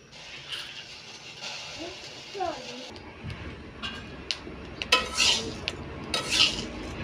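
Dry homemade baby-cereal ingredients, sun-dried until loose, being stirred and roasted in a wok over medium heat, with scraping and clinking of a utensil against the pan in intermittent bursts, some louder strokes near the end.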